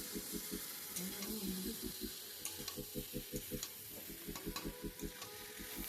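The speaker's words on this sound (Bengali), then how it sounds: "আমি এবার এর মধ্যে আগে থেকে ভেজে রাখা এঁচড় আর আলু দিয়ে দিলাম এরপর কিন্তু আবারও একটু ভালো করে কষিয়ে নিতে হবে" Pre-fried jackfruit and potato are stir-fried in oil, with a low sizzle running beneath rapid, regular spatula taps and scrapes against the pan, under background music.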